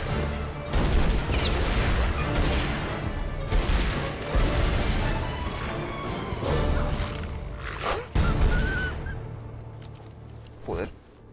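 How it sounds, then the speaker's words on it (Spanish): Loud gunshots in the video game Tomb Raider Anniversary on PC, a string of sharp blasts and booming impacts over a noisy background, with a few isolated shots near the end. "ese último disparo ha sido milagroso"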